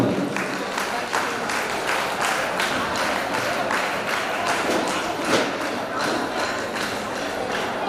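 A crowd at a retirement ceremony for Kondala Rao applauds him, a sustained stretch of dense clapping that stays even and fairly close throughout.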